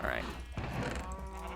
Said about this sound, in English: This might be killing too many of my cows here.